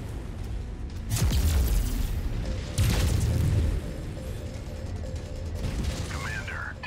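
Weapon fire and explosions in MechWarrior 5 while under attack, with two heavy booming blasts and mechanical clanking amid ongoing battle noise, moderately loud.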